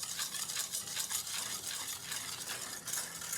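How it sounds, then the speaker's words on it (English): A whisk stirs cocoa powder and cornstarch together in a bowl, giving a soft, rapid, rhythmic scratching swish that repeats steadily and close by. "just take the powders and just whisk them all together till you don't see any lumps at all"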